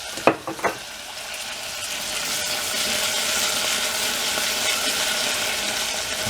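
Glop cooking down in oil gives a continuous bubbling sizzle that builds after a few sharp knocks and stirring clatters at the start, then holds steady and close.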